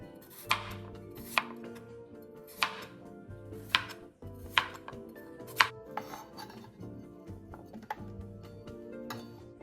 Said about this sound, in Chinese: 削皮後切滾刀。